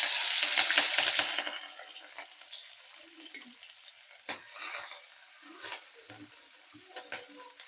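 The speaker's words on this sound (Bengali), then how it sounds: "তেলটা গরম হয়ে গেছে, এখন সাদা জিরে দিয়ে দেব, আদা কুচি আর লঙ্কা কুচি" Cumin seeds, chopped ginger and chopped chili hitting hot oil in a pan, a loud bright sizzle at first that quickly settles into a quieter fry with occasional stirring clinks and scrapes.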